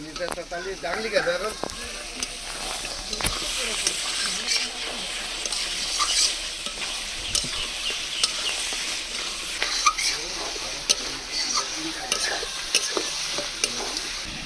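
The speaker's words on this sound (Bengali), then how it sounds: "মাংস কষানো হয়ে গেছে, এবার ভেজে রাখা আলুগুলো দিয়ে দেবো" Fried potatoes are stirred into goat meat simmering in a pan, giving a steady sizzle and frying crackle with repeated scraping stir strokes at close range, with a voice faintly in the background.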